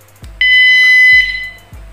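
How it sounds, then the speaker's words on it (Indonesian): Loud, shrill electronic tone from a bicycle alarm answering the unlock button on its remote: one long sustained beep followed by a short one, with low clicks between, heard up close and alone. "lumayan kencang sekali untuk sebuah alarm sepeda ya."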